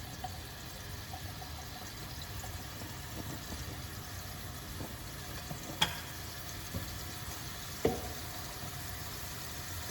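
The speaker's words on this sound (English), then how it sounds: "we're gonna saute our onion and garlic mixture until it's all cooked" Onion and garlic mixture sautéing in a pan for Burmese coconut chicken curry noodles, a steady soft sizzle with occasional light clicks of stirring, continuous and fairly quiet throughout.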